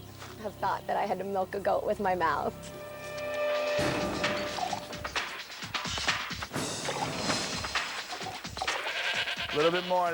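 A goat bleats loudly and repeatedly as it is milked during a stunt-show challenge, the wavering cries mixed with bangs, clatter and people talking.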